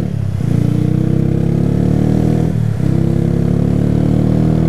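A Honda CG Fan motorcycle engine running after carburetor fuel-leak repairs, a steady close idle with a low rhythmic thrum and two brief dips in revs, alone with no talk.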